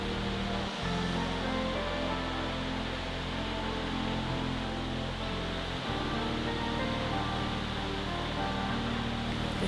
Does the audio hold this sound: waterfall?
yes